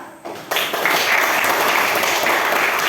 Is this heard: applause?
yes